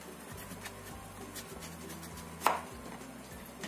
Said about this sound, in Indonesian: ini aku akan potong kecil-kecil supaya cepat empuk